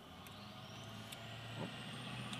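A truck passes on a road outside, a steady low engine rumble holding throughout with a slight swell near the end, alone with no talk.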